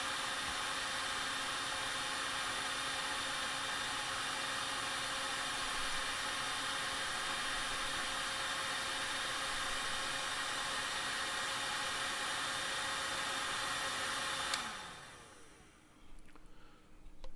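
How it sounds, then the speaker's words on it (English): A heat gun on its high setting shrinks heat-shrink tubing over a cable with a loud, constant blowing whine that runs steadily, then cuts off abruptly near the end. "I'm going to use the high setting on the heat gun so we can do this quickly"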